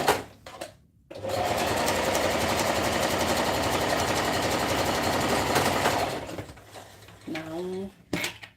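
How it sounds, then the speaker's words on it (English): Sewing machine running a straight stitch while joining a waistband seam, a steady close whirring burst of several seconds alone, with brief handling noise and a voice before and after. "join it up with a straight stitch"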